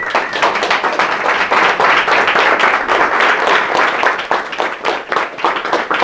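An audience on its feet gives a big standing round of applause, loud and sustained clapping from many people filling the room without a break.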